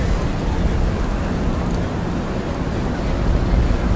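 Headwind blowing across a rowing race course, a steady loud roar of wind buffeting the microphone that masks other sound throughout.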